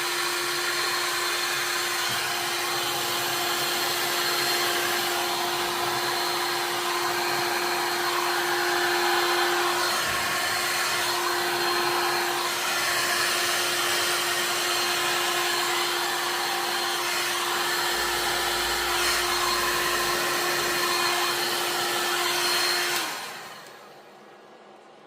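A heat gun blows hot air onto a beach board in a steady, loud, continuous whoosh with a constant tonal hum, running unbroken for over twenty seconds before cutting off near the end.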